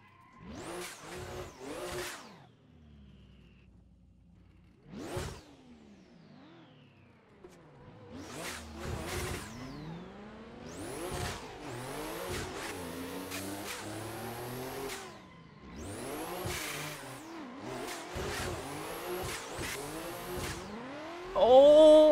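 In a drifting video game, a car's engine revs hard in repeated sharp bursts with rising and falling pitch between quieter gaps, driven tandem-style at Englishtown with a sim wheel, and tires squeal and grow louder toward the end.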